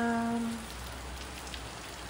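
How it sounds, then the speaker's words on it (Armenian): Steady rain patters continuously on a surface, a dense hiss of drops, after a brief tonal hum fades out at the start. "Ուրեմն լավանց անձրևն եկել շպրտել լրիվ թաց արել։"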